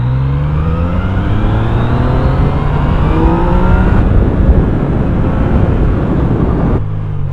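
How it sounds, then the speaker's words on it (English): Kawasaki Z900 four-cylinder motorcycle engine downshifting: a loud, smooth engine note rises and falls with revs, dropping sharply at each gear change, with steady wind rush throughout. "Z900 was very smooth, and that downshifting with an Arai, it's heaven"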